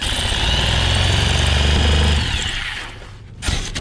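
A Sawzall reciprocating saw cuts through 2-inch Ridgid rigid foam board, a loud steady buzzing whine for about two seconds that fades as the blade slows, followed by a brief clatter.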